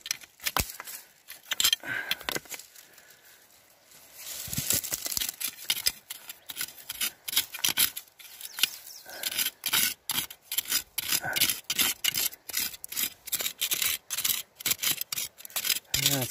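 A tool scrapes and rasps in a rock crevice during gold prospecting in Arizona, with a burst of close, gritty scratches, a brief quieter lull, then a long run of rapid, irregular scraping strokes.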